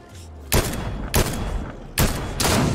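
Loud bursts of gunfire crack out during a fight in Fortnite, three sharp volleys spaced about a second apart, each trailing into a dense rattling tail.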